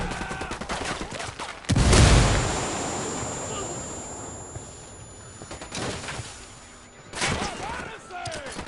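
A frag grenade goes off in the shooter game Ghost Recon Wildlands: one loud, close, deep blast that rolls and fades over several seconds, followed later by a sharper burst of gunfire.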